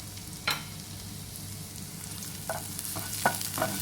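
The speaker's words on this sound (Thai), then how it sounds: "ก็ผัดกระเทียมให้หอมก่อน" Garlic sizzles and crackles steadily in a hot wok for stir-fried okra with egg, with a few sharp scraping stirs of a utensil against the metal.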